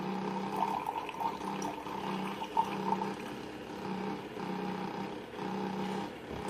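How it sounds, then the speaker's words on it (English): A Keurig coffee maker pours a thin stream of coffee into a cup, with a steady low machine hum running underneath, moderately quiet and unbroken. "Other than the coffee pouring out into the cup, you wouldn't even hear it."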